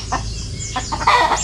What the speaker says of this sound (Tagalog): Nabulabog ang mga manok dito sa amin.